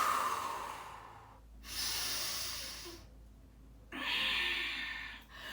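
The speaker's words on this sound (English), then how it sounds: "Take a breath in." A slow yoga inhale drawn in through the nose, then a second long breath after a pause, both close and soft with a hissing airy quality, no talking.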